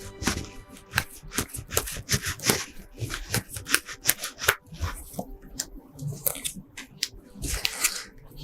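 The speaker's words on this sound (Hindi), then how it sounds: "निकालते हैं 3 कार्ड।" Tarot cards being shuffled and drawn for a horoscope reading: a run of quick papery riffles, flicks and snaps with short pauses between bursts, close and fairly crisp, with no talking.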